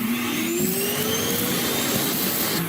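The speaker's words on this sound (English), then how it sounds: "When it empties the vacuum, it does produce quite a bit of a loud noise" Loud, steady whooshing roar of an iRobot Roomba j7+ dock's suction motor emptying the robot vacuum's bin, running continuously up close, with a faint rising whine.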